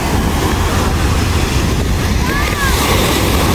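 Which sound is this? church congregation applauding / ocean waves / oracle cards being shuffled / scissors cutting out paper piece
ocean waves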